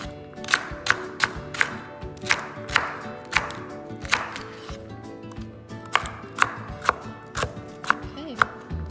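Knife chopping celery coarsely on a board for a vegan soup, a series of crisp, evenly spaced cuts in a steady rhythm, close and clear with no talking.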